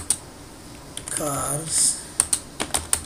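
Computer keyboard typing while filling in a report, bursts of crisp clicking keystrokes, with a person talking over part of it.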